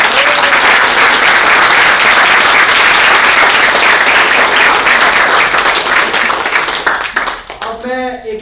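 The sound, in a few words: audience applause at end of play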